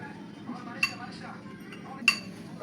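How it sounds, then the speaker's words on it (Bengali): Plates and serving utensils clink sharply a few times at irregular intervals while vegetable curry is served onto plates, with soft handling noises and quiet background between the clinks. "তো এখানে আমি সবার প্লেটে সবজি বেড়ে দিচ্ছিলাম।"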